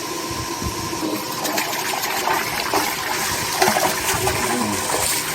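Water drains noisily from a tank while a filter and recirculation setup is being cleaned, making a steady rushing, gushing flow that persists throughout at moderate loudness.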